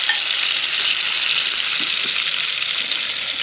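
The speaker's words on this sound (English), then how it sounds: "I'll spoon that over my meat a little bit as we sear it." Whitetail deer loin sears in butter with rosemary, a loud, dense, continuous sizzle with faint spoon clinks as butter is basted over the meat.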